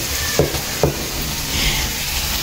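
Onions sautéing in a pan: steady sizzling hiss throughout, with two soft stirring scrapes early on, close and fairly loud.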